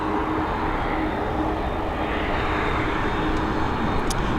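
An airplane arriving at Dublin Airport makes a steady, loud engine roar with broad rushing noise, sustained throughout without pause, heard from a fairly close distance.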